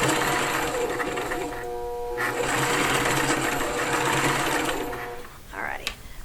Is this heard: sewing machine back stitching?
yes